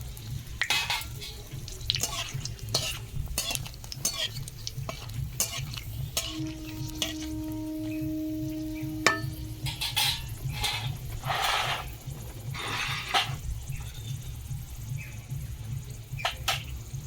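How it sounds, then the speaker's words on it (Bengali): Dry red chillies, a bay leaf and cardamom pods sizzling in hot mustard oil in a pan, a steady crackling fry with scattered stirring scrapes and clinks of a utensil against the pot, plus a low background hum. "সর্ষে তেল দিয়ে দেবো দুটো শুকনো লঙ্কা একটা তেজপাতা আর দুটো এলাচ দিচ্ছি"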